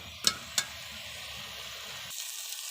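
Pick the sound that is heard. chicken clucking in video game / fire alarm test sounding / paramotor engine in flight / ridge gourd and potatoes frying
ridge gourd and potatoes frying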